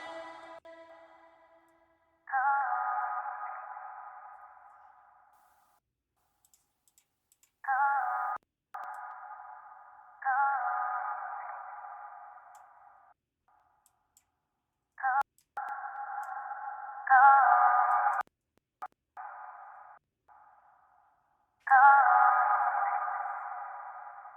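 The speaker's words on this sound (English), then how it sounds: "So it kind of like makes the reverb sound a little bit like windy and stuff like that." Repeated bursts of a sustained, harmonic vocal-like tone, each trailing off in a long, airy reverb wash, separated by short silences; no talking.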